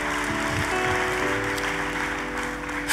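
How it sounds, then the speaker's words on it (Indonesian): A church congregation applauds during a sermon, a dense, even wash of clapping that holds steady for a few seconds with faint musical tones underneath. "Tepuk tangannya yang paling meriah buat Tuhan kita."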